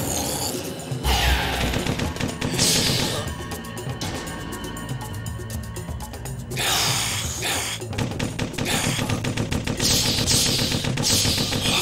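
Rapid machine-gun fire from the video game Corpse Killer as zombies are gunned down, dense loud bursts layered over a busy game soundtrack across the whole stretch, with brief lulls between volleys.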